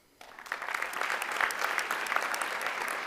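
Audience applause at a university honors convocation, a dense, steady patter of many hands starting abruptly after a brief quiet moment and holding at an even, moderately loud level throughout.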